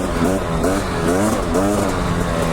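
A dirt bike ridden along a trail, its engine rising and falling steadily as the rider shifts between second and third gear, loud and close throughout with no gap.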